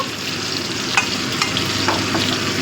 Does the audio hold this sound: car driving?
no